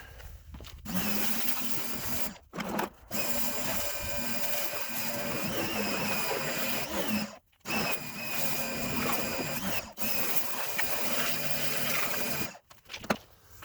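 A pressure washer running while a motorcycle is washed, a loud continuous motor drone that cuts out briefly several times and restarts, close with no talk.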